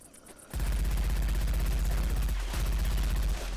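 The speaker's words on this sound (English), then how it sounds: "I love this cat gun" Rapid automatic gunfire from a cat-themed gun in a video game, a dense loud burst of shots that starts abruptly and continues steadily with a brief stutter, ending after about three seconds.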